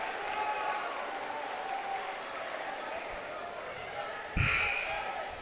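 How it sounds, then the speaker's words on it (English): A basketball game crowd at Lake Central versus Andrean keeps up a steady roar of cheering and chatter in a gym. A sharp thump of a bounce or slam cuts through near the end. "the crowd cheers as number 33, Red Peters"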